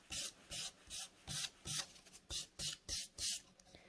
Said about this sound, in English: We're going to take our 240 grit file again, and we're going to smooth over the whole of the nail extension.